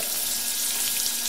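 A welding arc sizzles and crackles steadily up close, a dense, hissing fry like bacon in a pan, with no break and no voices.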